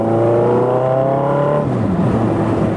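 A car passes close by on a road, heard from a motorbike: a loud, steady engine drone with a falling pitch as the vehicle goes past, then rumbling road noise.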